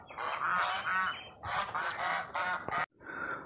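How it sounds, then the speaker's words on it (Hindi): Ducks quack loudly and repeatedly in nasal, overlapping bursts, close by, with a brief pause before more calls. "तो ये हैं हमारी प्यारी बतखें।"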